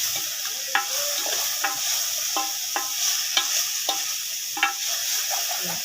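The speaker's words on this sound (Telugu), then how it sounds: "అడుగంటకుండా మనం ఫ్రై చేసుకోవాలి." Food frying in a pan with a little oil, turmeric and salt, stirred by a spoon: a steady sizzle underneath repeated sharp scrapes and taps from the stirring, close by, with no voices.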